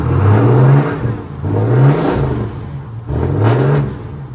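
A custom 1979 Buick Regal's engine revs loudly, climbing and falling in three bursts with short dips in between, close to the listener and without any talk.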